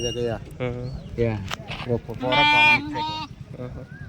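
Sheep bleating at a busy weekly sheep market, several loud nearby calls overlapping with people talking throughout.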